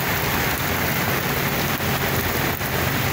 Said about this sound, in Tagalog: Ito magandang ulan, no? Isang buhos kagad.